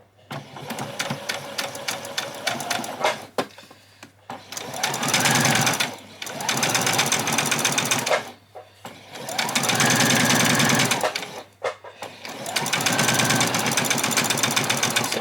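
A sewing machine runs gathering stitches on an apron without back stitches, in several loud close bursts of fast whirring separated by short pauses.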